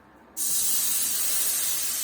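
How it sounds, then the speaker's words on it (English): A sudden loud hiss bursts in and holds steady, the bright crackling sizzle of a grass-fed sirloin steak hitting a very hot pan, close up. "You can hear that beautiful sizzle guys"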